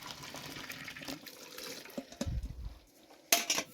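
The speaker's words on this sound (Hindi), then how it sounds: "इसका पानी छान लेंगे।" Boiled pasta water drains through a strainer into a kitchen sink, splashing and gurgling in loose bursts, with a heavier pour near the end and no one talking.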